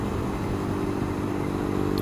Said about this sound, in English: One of the beautiful things about riding a motorcycle